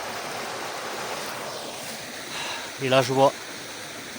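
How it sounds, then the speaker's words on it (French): A small stream flows near castle ruins, a soft, steady rushing wash heard outdoors at moderate distance. Someone speaks briefly toward the end. "Un ruisseau."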